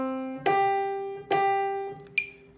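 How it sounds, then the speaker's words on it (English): Three evenly spaced piano notes sound as quarter notes in a quiet lesson setting, each ringing out and decaying before the next. A sharp tick accompanies the last note, all close and soft. "So if we were to put our metronome on,"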